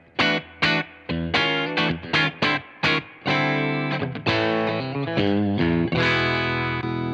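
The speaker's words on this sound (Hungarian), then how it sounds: "elvileg itt akkor Stratocaster hangok vannak" Electric guitar with a Bognar pickup effects system set to Stratocaster-style tones, played alone as a run of sharply plucked notes and chords that give way to longer ringing, sustained strums with light effects.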